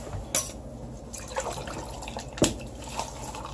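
Ready-made iced tea splashes over ice into a single-serve Hamilton Beach blender cup, with a couple of sharp clinks and a soft, irregular trickle of liquid.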